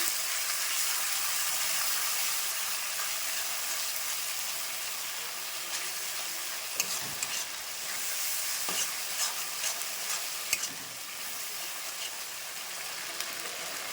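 Spice masala of cumin and ginger paste, loosened with a splash of water, sizzles steadily in a pan while being stirred, with scraping strokes and brief clinks over a close, continuous frying hiss.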